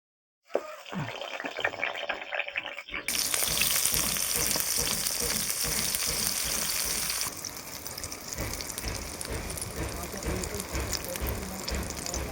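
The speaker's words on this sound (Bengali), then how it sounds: "তেল গরম হয়ে গেছে, আমি বেগুনগুলো ভেজে নেবো।" Brinjal slices fry in hot mustard oil in a pan, a loud, steady sizzle that bursts in suddenly and keeps crackling densely throughout, with some clatter partway through.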